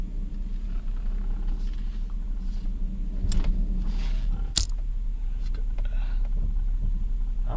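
A 2002 Honda Odyssey minivan on a test drive, heard from inside the cabin as a steady low engine and road rumble with a few faint clicks and rattles.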